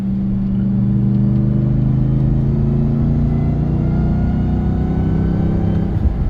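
A Ram TRX pickup with a K&N full intake accelerates, its engine droning loud and close as the pitch climbs steadily with a faint intake whine, and no voices.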